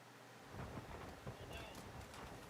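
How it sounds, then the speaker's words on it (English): Hurricane Milton pounds St. Petersburg, Florida with sheets of heavy rain and intense winds over empty streets, a dense, continuous roaring wash of noise with gusty surges. "sheets of rain suddenly came crashing down, pushed along the empty streets by intense winds topping 150 kilometers per hour"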